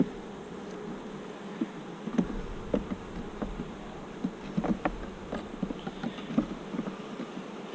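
Bees swarming around a hive box and protecting the comb in intense heat, a continuous low droning buzz with scattered closer passes of individual insects.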